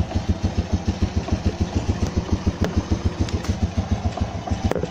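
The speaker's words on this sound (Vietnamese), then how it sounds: "Thì anh em nghe máy thôi." A Honda Super Dream motorcycle engine idles from a cold start early in the morning, a steady even low putter with a regular rhythmic pulse, close and moderately loud, with no talk.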